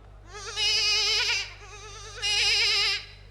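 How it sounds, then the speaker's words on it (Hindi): A goat at a livestock market gives two long, close bleats, each wavering for close to a second, separated by a short pause. "लो पहले बकरे की आवाज सुनो।"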